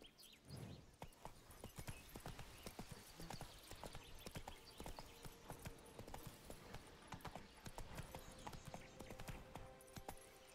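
Horse hooves clip-clopping steadily in The Witcher 3: Blood and Wine, a dense run of sharp, close hoof strikes that carries on for the whole stretch with no talk over it.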